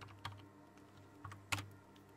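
Keys on a computer keyboard are struck in a few sparse, separate clicks, one sharper press near the end, quiet and close in an otherwise still room.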